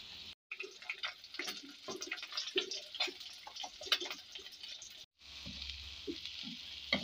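Onions frying in a pan for a fish curry give a faint, steady sizzle with scattered pops and crackles, broken by two short silent gaps and a low hum near the end.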